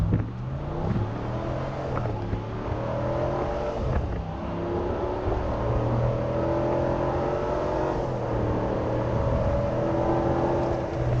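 A Ford Raptor pickup carrying four people accelerates hard, its engine note climbing steadily and droning loud and close inside the cab, with gear changes briefly breaking the rising pitch.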